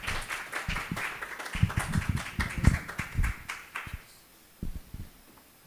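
A small audience at a book presentation applauds a doctor with brisk, uneven clapping that thins out after about four seconds, leaving a few last scattered claps.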